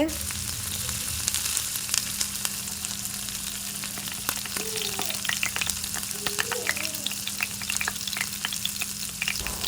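Jalebi frying in hot oil on a small toy-style mini kitchen stove fired with candle and firewood, a steady crackling sizzle throughout with occasional clinks, no talking.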